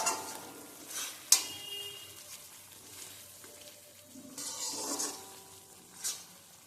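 A spoon stirs pointed gourd peel paste frying in a pan over medium heat as the water cooks off, giving intermittent scraping strokes over a soft, low sizzle, close by with brief louder swishes.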